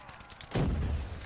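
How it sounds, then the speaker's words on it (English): Stun grenade going off in Black Ops 3 Zombies, a sudden loud booming blast halfway through that lingers as a low rumble after a quieter lead-in. "Probably the first time I've had stun grenades and zombies."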